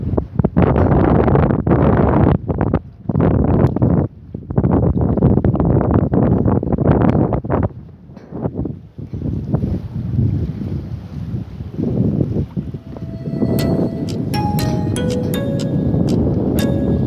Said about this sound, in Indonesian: Anginnya kencang.